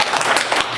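Audience applause at a Gallifrey Pirate Radio fan convention panel at MystiCon, a dense, steady patter of many hands clapping for under a second, fairly close and loud, with no talk over it.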